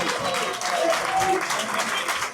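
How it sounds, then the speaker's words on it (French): A crowd at a combat sports event claps for a couple of seconds, a short, even burst of applause with faint background voices. "On applaudit, messieurs, dames"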